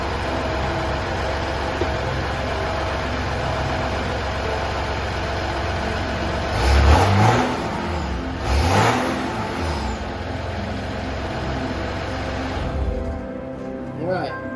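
An engine cranks briefly after a fuel filter change, then catches and runs, rising to a couple of revs before settling into a steady idle; people talk over it.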